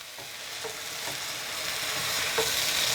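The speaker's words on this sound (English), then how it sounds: "So I'm going to mix that all together." Pork fried rice is stirred in a sizzling pan after a splash of chicken stock, a steady frying hiss with soft utensil scrapes and taps, growing slightly louder, close and without talk.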